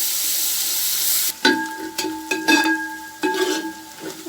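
Chopped onions sauté in a pan, a soft steady sizzle broken by a few clattering stirs and scrapes of a utensil, with no voices.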